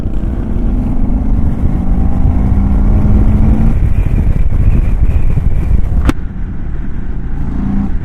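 Loud, steady engine roar with wind rush from riding a 2023 Indian Sport Chief motorcycle; the drone holds constant for several seconds, with a brief sharp click near the end.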